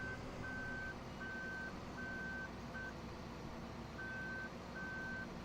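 In Farming Simulator 15, a vehicle backs up a sugar beet trailer while a steady reversing alarm beeps in even repeated pulses over a low, constant engine drone.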